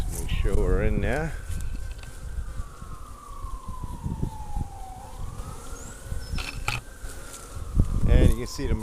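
Honeybees buzz steadily around an opened hive being inspected after storm damage, a close continuous hum under a person's talk, with a siren-like tone rising and falling in the background.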